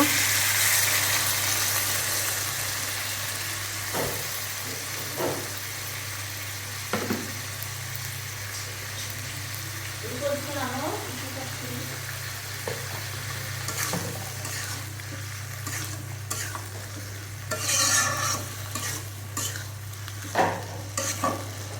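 Potatoes for aloor dom sizzling in a pan after a little water is added, a steady frying hiss with a low hum underneath, broken by occasional stirring scrapes and clinks of the spoon.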